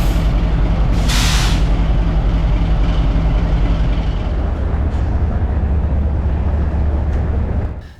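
A large diesel locomotive hauling an Egyptian sleeper train idles close by with a loud, pulsing low rumble, and a brief hiss of released air bursts out near the start.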